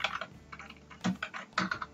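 Keys clatter on a computer keyboard at close range, a quick uneven run of soft taps with short gaps, heard alone without talk.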